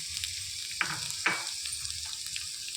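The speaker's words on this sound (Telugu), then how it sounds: "ఇదే ఆయిల్లోనికి ఉల్లిపాయలు వేసుకొని వేయించేసుకోవాలి" Onions frying in oil give a faint, quiet sizzle with a low steady hum underneath, broken by two sharper hissing bursts as the pan is stirred.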